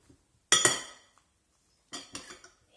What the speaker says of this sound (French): Le champignon, on les coupe en deux.